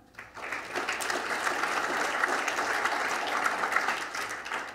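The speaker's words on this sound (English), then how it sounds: "So that's that group, and you can applaud them." Steady audience applause fills a symposium hall, loud and sustained for several seconds after a brief quiet start, with no voices over it.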